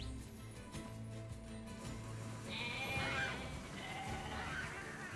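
Sheep bleating in the video game NieR Replicant, a few wavering calls over a steady game ambience and background music, with horse-like whinny tones mixed in; no talking.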